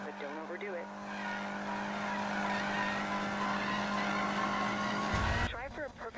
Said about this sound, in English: do a burnout to get your tires to the perfect temperature for maximum grip